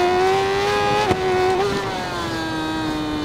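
A 2014 Suzuki GSX-R1000 sport bike in the RIDE 4 racing game at Road America, engine braking on a downshift: a loud, close whining engine note that blips once, then falls in pitch as revs drop.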